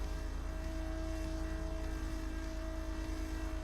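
Loud, steady engine drone of a small propeller aircraft in Microsoft Flight Simulator, a constant low rumble with a sustained tonal whine, unvarying and close, with no talking.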